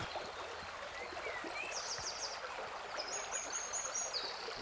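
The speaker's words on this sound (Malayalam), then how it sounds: "പെരിയാറിലെ ജലം പാറക്കൂട്ടങ്ങളിൽ തട്ടിയുണ്ടാകുന്ന ശബ്ദം" Water of the Periyar river rushing and crashing over rocks in a forest, a steady broadband roar with no pauses, joined by faint high bird chirps now and then.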